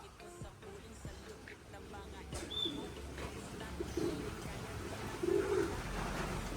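Racing pigeons coo softly at a loft in heavy rain, with two or three low coos standing out over a steady wash of rain noise, faint tapping and scattered thumps.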